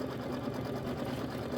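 Sewing machine stitching a quilt block, with a fast steady mechanical whirr running continuously at close range.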